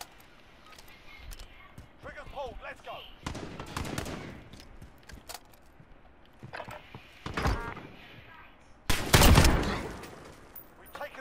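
Bursts of rapid gunfire crack out between stretches of quieter game sounds and talk, with a loud, dense volley near the end, in a shooter video game.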